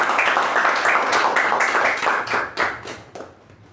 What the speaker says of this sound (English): let's give a big round of applause for Toastmasters